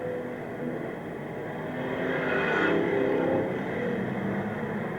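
Speedway race cars roar together at Wollongong City Speedway in 1983 in a dense, continuous engine drone that swells slightly as the pack passes and then holds steady, loud and unbroken.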